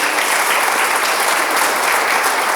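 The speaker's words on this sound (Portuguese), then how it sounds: "Se você entendeu, aplauda isso. Aplauda ao Senhor." Church congregation applauding during a sermon, dense sustained clapping from a large crowd, loud and even throughout with no voices over it.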